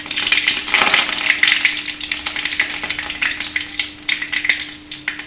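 Curry leaves are dropped into hot oil with mustard seeds in a kadai, producing a loud, close sizzle with dense crackling spits that pulse and gradually settle over about five seconds.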